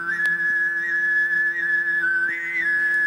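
Tuvan throat singing: a single voice holds a steady low drone while a piercing whistle-like overtone rides on top, sliding slightly in pitch, loud and close throughout.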